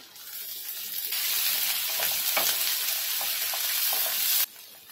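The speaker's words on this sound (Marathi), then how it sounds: "तर हे आपण वाटण पण भाजून घेऊया।" Onion, coconut, ginger and garlic masala paste roasting in a pan for a drumstick curry gives a steady, close sizzle with faint stirring scrapes, lasting several seconds before dropping away.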